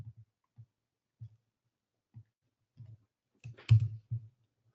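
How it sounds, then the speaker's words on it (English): Sparse, irregular keystrokes on a computer keyboard, a few soft taps spread out with one louder cluster of clicks near the end, close and quiet with no talking. "Pardon my typing."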